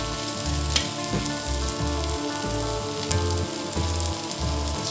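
Khasla bora fritters, a poppy-seed style Bengali snack, fry in hot oil with a dense, constant crackling sizzle, close and loud, broken by low rhythmic bumps of stirring or turning in the pan, no voices.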